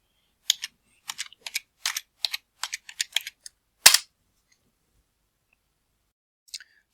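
Quick plastic clicks of a computer keyboard being typed on in short bursts, close and crisp in an otherwise silent room, ending with one louder keystroke and a faint click a few seconds later.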